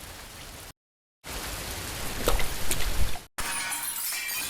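A glass shop window shatters in the game Sunrise The Game: a dense crash of breaking glass after a brief silence, followed by scattering, tinkling fragments and a sudden cut to another sound.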